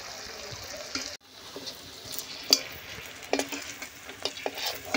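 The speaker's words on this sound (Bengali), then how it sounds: "বড়াগুলো বেশ ভালো করে ভাজা হয়ে গেছে" Lentil fritters (dal bora) sizzle in hot oil in a pan, a soft continuous frying hiss broken by scraping stirs and light clinks, fairly quiet and close with no talking.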